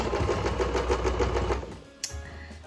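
A sewing machine stitches around a piece of fabric, its needle chattering in a fast, even rhythm up close before slowing and stopping, followed by a brief click and quiet.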